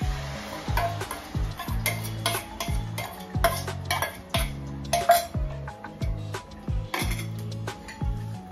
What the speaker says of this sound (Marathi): तेल असं सुटेपर्यंत हा मसाला परतून घ्यायचा